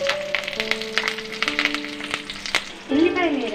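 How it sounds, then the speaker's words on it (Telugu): Mustard seeds splutter in hot oil in a pan, giving rapid, irregular sharp pops and crackles over a steady sizzle, heard close, with a brief louder burst near the end. "ఆవాలు వేసాను ఫ్రెండ్స్. చిట్పట్ అంటున్నాయి, వింటున్నారు కదా."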